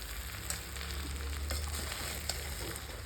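Rice and eggs frying together in a pan for egg biryani, a steady close sizzle with faint stirring scrapes and no talk.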